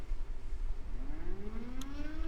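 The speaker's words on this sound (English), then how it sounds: "Oh yeah, that siren's annoying." Civil defense tornado siren in a Minecraft game with a localized weather mod, a rising, wailing tone sweeping upward over steady background noise, moderately loud and continuous.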